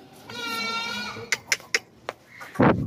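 A pregnant goat bleating nearby, one drawn-out bleat followed by a few short sharp knocks and a louder final cry.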